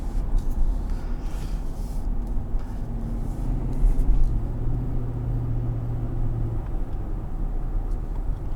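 A 2021 Infiniti QX80 engine is pushed through a high-rev pull, a steady, fairly loud rumbling drone whose pitch climbs and holds under constant road noise.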